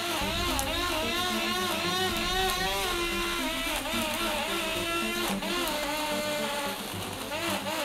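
A juicer blender grinds pomegranate with a steady, loud motor whine and a churning, warbling grind that runs continuously from start to finish.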